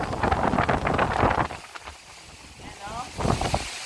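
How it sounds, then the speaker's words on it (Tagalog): Strong typhoon wind under Signal No. 3 buffets the microphone in heavy rushing gusts, easing briefly mid-clip before surging again, with a person talking over it. "grabe, kalakas ng hangin."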